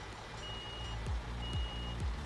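Truck in the game Construction Simulator 2015 sounding its reversing alarm, three evenly spaced beeps over a low engine rumble with a thin tonal whine, moderately loud and alone.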